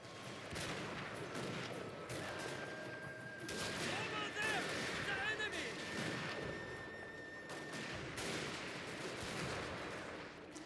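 Massed infantry rifles in Shogun 2: Fall of the Samurai crackle in scattered volleys across a battlefield, a dense, distant-sounding din of gunfire layered with a voice talking over it.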